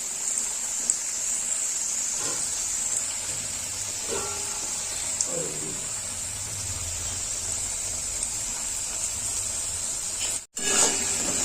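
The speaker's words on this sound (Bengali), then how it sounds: "প্রথমেই আমি আলুটা ভেজে নেব।" Potato pieces frying in hot oil in a wok for dahi bandhakopi, a steady loud hiss and sizzle filling the whole stretch, with a few faint clinks and one brief dropout near the end.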